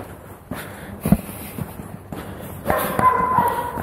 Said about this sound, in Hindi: मैं अकेला और रोज कुत्ते भौंक रहे हैं यहाँ पे।